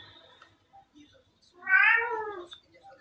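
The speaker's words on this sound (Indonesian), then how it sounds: "Kok meong-meong gitu nggak sanggup aku dengar tiap malam." One clear, drawn-out cat meow rises and falls near the microphone, preceded by a few soft scattered noises.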